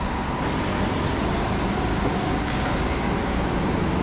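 Go-karts racing on a cold indoor karting track at Pioneer Valley Indoor Karting, a steady, dense engine roar filling the whole moment with no breaks or pauses.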